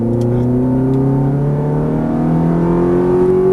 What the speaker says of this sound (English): Tight to the apex, then squeeze on the throttle, make your way back over to the right side.